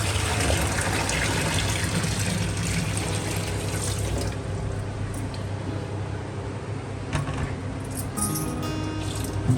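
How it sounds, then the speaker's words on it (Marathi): Water seeped out of a clay pot being cleaned and pours into plant pots with a steady splashing gush that holds throughout, followed by a few light clinks. "हे पाणी कुंड्यांना टाका"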